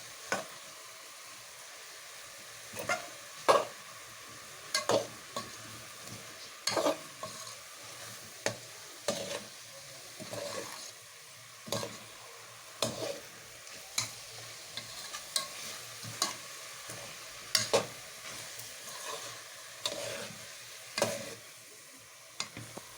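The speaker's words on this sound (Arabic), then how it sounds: "ونقلب" Mubakbaka in a pan, with a spoonful of turmeric just added, is stirred over a low frying sizzle, the spoon scraping in irregular knocks and swishes every second or two.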